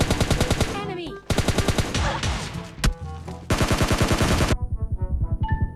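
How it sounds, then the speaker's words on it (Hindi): Shots fired in a video game, coming as loud, rapid strings of repeated blasts with short gaps between bursts and a few single reports near the end. "शॉटगन चला रहा है।"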